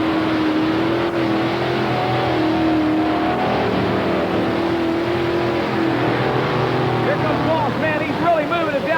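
Irish Challenger heavy modified pulling tractor with five Arius engines roaring down the track at a 1991 tractor pull, a loud sustained multi-engine drone with shifting pitch, under an announcer's voice.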